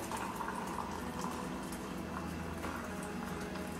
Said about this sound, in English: let me get some hot water here